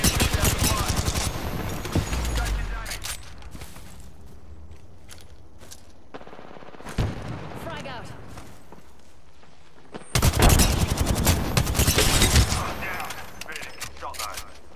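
Repeated bursts of rapid gunfire from a knuckle cluster in Apex Legends crack out loudly in several volleys, separated by quieter gaps, with a player calling out over the action.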